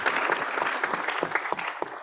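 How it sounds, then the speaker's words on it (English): Audience applause at a healthcare innovation competition, dense clapping from a seated crowd for a finalist startup team after their pitch, steady and moderately loud throughout with a few sharper claps standing out near the end. "Let's give them a big round of applause"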